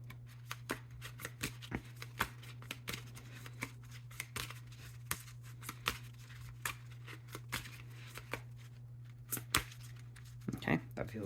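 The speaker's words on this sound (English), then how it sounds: "Let's just shuffle a little bit more." Tarot cards are shuffled close up in quick, irregular riffling bursts and soft slaps, over a low steady electrical hum, with a brief rustle near the end.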